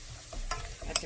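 Minced garlic stir-fried in scallion oil, a quiet steady sizzle with a couple of sharp spatula scrapes against the pan.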